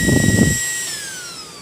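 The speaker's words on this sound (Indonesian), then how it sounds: "Kita coba dulu bro ya, untuk mode flat ya, mode flat dengan kipas angin super." A small aftermarket SunS cooling fan on a car LED headlight spins at high speed, giving a thin steady whine with high tonal lines that slowly drops in pitch as it winds down, after a brief low rumble at the start.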